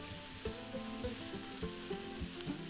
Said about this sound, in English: give it a quick toss until all the tofu is well coated